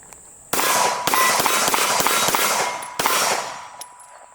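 Handgun fired in a practice drill, two quick strings of sharp, loud shots with echoing tails, the first a rapid burst of several rounds and the second shorter, with no talking.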